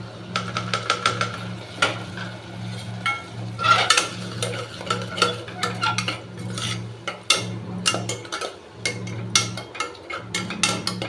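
Ground coriander paste being stirred into onions frying in a pan for coriander rice, with repeated spoon scrapes and clinks against the metal over a steady low hum, close and busy throughout.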